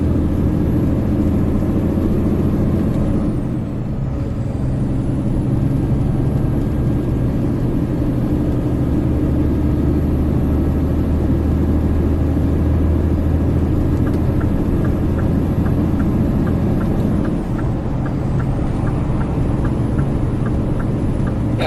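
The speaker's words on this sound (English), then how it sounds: "Just to give you guys a sound of the straight 6 engine" A Scania 560S truck's straight-six engine labours up a hill in eighth gear, a loud, steady, deep droning rumble with a brief dip around a gear or throttle change, heard from inside the cab.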